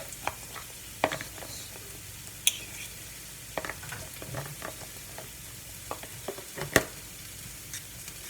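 Butter sizzles and spits softly in a pan while cooking tuna casserole, a faint steady crackle broken by scattered clicks and scrapes of a utensil against the pan.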